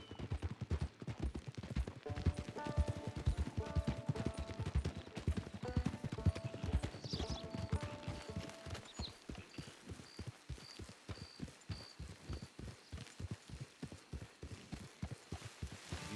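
Horse hooves clip-clop in Red Dead Redemption 2, a steady, close rhythmic trot that runs throughout, with faint tones and distant game sounds layered over the first half.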